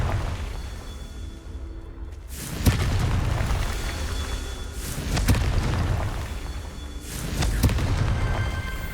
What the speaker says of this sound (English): Confringo. And I blow them up